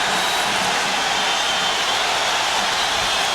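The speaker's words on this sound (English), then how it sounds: "Crowd starting to crank up." A college football stadium crowd at a 1999 Navy Midshipmen versus Hawaii Rainbow Warriors game roars as a loud, dense, unbroken wash of noise with no distinct voices.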